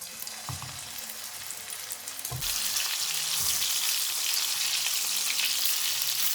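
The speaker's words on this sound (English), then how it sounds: "take some oil in a pan and fry the kebabs first" Kebabs frying in oil in a pan, a steady close sizzle that jumps louder partway through as more meat hits the hot oil, then holds a dense crackling hiss.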